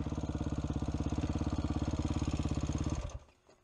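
A riderless KTM enduro motorcycle runs on its own, its engine thumping in a fast, even pulse for about three seconds before cutting out and falling quiet.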